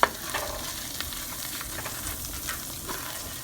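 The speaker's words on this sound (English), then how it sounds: "Continue to stir so it deglazes the bottom of the skillet." Garlic powder frying in a skillet while being stirred, a constant close sizzle with light scraping from the stirring, short and without talk.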